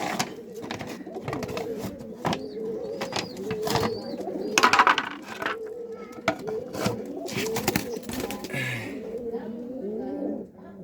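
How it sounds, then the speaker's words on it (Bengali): Pigeons coo in repeated soft, throaty phrases close by, with a few brief chirps and flutters, while a person talks over parts of it. "তো এই দুইটা কবুতরই আপনাদেরকে আজকে দেখাবো।"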